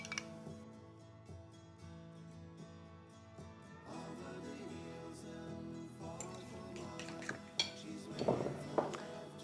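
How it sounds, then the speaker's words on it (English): Wet ingredients for banana bread, melted margarine, banana and eggs, being mixed in a bowl, with light clinks and knocks of a utensil against the bowl, faint at first and growing busier and louder toward the end. "Then I'm going to mix my wet ingredients."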